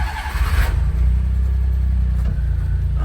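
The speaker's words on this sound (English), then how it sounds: "So let me start it up and show you how this baby sounds with that muffler." A Japanese mini scissor-lift dump truck with difflock and an aftermarket muffler cold-starts close by: a brief starter crank, then the small engine catches and settles into a steady, rumbling idle.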